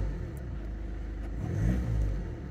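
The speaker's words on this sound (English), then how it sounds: "If we give it a blip of the throttle." A 2016 Volkswagen Golf 1.6 TDI diesel engine idles with a low rumble, then briefly revs up with a rising growl before settling back down.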